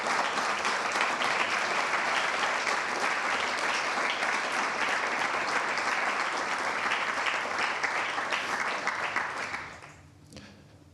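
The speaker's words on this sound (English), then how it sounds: "if you can join me in doing so first" Sustained audience applause fills a conference hall at a peace mediation event, loud and steady for about nine seconds before fading away at the end.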